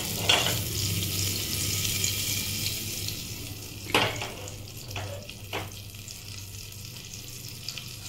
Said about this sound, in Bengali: প্রেসারটা গরম হয়ে গেছে, এর মধ্যে আমি কিছু পরিমাণে এরকম একটু বাটার আমি দিয়ে দিচ্ছি।